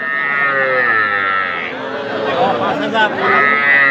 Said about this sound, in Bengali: এটা তো ষাঁড় বাছুর।